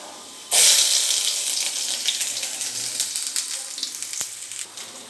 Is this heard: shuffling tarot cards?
no